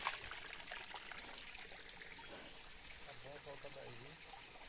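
Water trickles steadily in a small stream in the Amazon forest, a soft continuous babble close by, with a faint voice and quiet forest ambience underneath.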